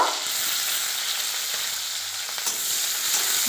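Onions and green chillies sizzling steadily in a pan, a constant close hiss of frying with a few faint stirring clicks and no voices.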